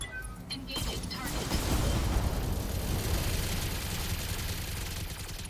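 Mech weapons, among them an AC 20 autocannon, fire at an enemy Highlander in the BattleTech video game, a loud rolling barrage of blasts that swells and holds as a dense, rumbling roar.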